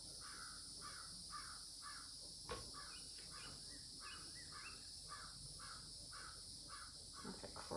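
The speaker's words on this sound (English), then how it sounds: "That's a crow." A crow caws repeatedly in a steady series of harsh calls outdoors by the Mount Dora lighthouse, moderately distant over a constant high insect or cricket drone, with a brief knock partway through.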